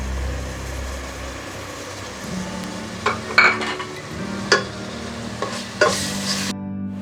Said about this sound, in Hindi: अब इन प्याज़ों को हम ब्राउन करेंगे, लाइट ब्राउन करेंगे पहले